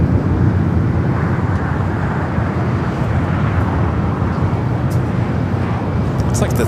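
A Lufthansa Boeing 747 taxiing at LAX, a steady loud low engine rumble and whine, with faint talk and brief sharp sounds near the end.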